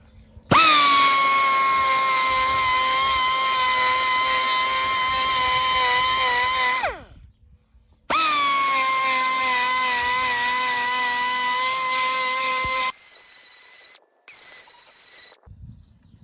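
Air-powered carbide burr grinding an aluminum intake manifold, a loud steady high whine running for about six seconds, a brief pause, then another long run, followed by two short lighter bursts as the air is turned down.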